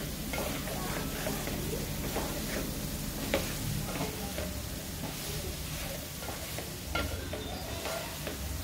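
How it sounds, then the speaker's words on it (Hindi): A spoon steadily stirs melting jaggery with coconut and dry fruits as it roasts in a pan, giving soft scraping, faint sizzling and light clicks close by, with no talk. "अब इसको थोड़ा और भुनेंगे, गुड़ का कच्चापन नहीं रहना चाहिए"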